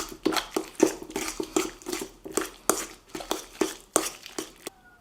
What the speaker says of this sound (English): And then give that a good mix.